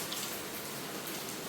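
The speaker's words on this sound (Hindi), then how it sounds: "फिलहाल बारिश अभी भी बंद नहीं है" Rain falling steadily, a dense patter of drops on surfaces, faint and even throughout the short stretch with no voices.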